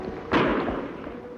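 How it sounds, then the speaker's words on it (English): A single gunshot in an old western film, one sharp, heavy report that rings and fades over about a second, with no voices during it. "Shots come from that way, Kimasabi."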